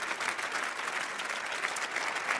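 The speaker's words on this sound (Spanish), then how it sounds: "dedicad por favor un aplauso a Agustín." Steady audience applause at a conference on freedom and cancel culture, dense and even clapping from a crowd throughout with no speech over it.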